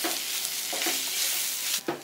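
Mashed potato being stirred into fried onions in a hot pan, a continuous sizzle broken by a few scraping strokes of the spoon, close and fairly loud, with no voices.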